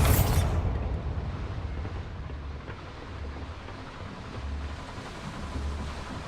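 A Bombarda spell in Hogwarts Legacy goes off with a sharp, loud blast, then a long, deep rumbling roar that churns on steadily after the initial burst.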